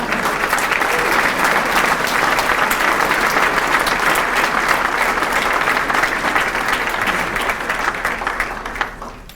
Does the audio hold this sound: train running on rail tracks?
no